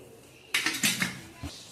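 A metal kadai set down on a gas stove: a sharp clatter of metal against the burner grate with a few quick rattling knocks, then a softer tap, close and clear in a quiet kitchen.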